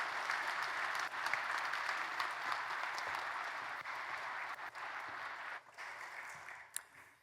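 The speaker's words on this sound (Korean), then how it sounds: "큰 박수로 축하해 주시기 바랍니다." A congregation at Ulsan Simin Church in Korea applauds a baptism and confirmation, a steady wash of many hands clapping that thins and tapers off toward the end.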